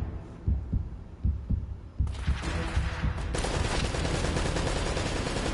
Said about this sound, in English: I'm hearing gunshots besides the turret